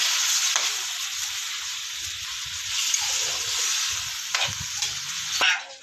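Steady sizzling of ingredients sautéing in a hot pan for ginataang manok, with occasional scraping and stirring sounds throughout.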